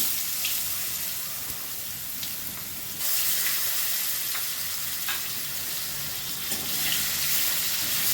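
Potatoes go into hot oil already tempered with dried chili and cumin, sizzling and crackling steadily up close, with a louder burst of frying partway through and no talk.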